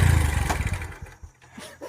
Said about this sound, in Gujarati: ખરાબ બાઇક છે ભાઈ નહીં ચાલતી